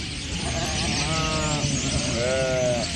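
Sheep in a grazing flock on the alkaline grasslands of Kiskunság bleat twice, each call a wavering cry, set against a steady outdoor background with a voice speaking faintly.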